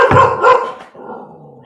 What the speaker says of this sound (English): pardon my dog rudely interrupting me.